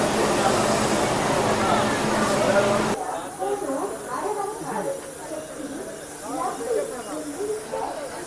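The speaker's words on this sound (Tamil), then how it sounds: "ஸ்டீமே ஆன் பண்ணுறாங்க, தெரியுதா?" Steam hisses from an Ooty toy train locomotive on the Mettupalayam to Ooty mountain line, a loud broad rushing jet that stops abruptly, after which people's chatter continues over a softer background.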